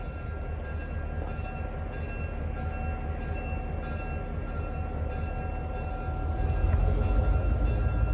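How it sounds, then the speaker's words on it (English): A train hums steadily with a sustained horn tone, then the rumble of the engine grows louder as it begins to move off. "There's her horn and the train is about to depart."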